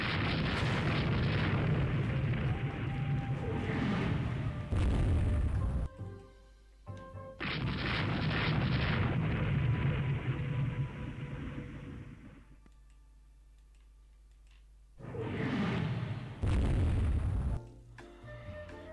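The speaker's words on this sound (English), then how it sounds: "We torpedoed an enemy battleship." Torpedoes hit an enemy battleship in the naval strategy game RTW 3, heard as long, heavy rumbling blasts, each rolling for several seconds and then cutting off abruptly, separated by quieter gaps, with no talking.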